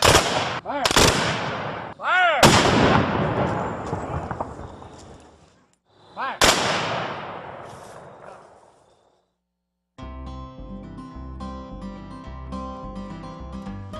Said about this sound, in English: followed by a rifle and sometimes cannon salute